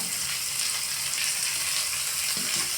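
Chopped onions frying in a pan until brown give a steady dense sizzle that fills the whole clip, close and even, with no voice over it.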